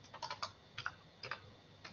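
A password is typed on a computer keyboard during a Windows Server 2019 user setup, a quick series of soft, close key clicks in small bursts at low volume, with no voices.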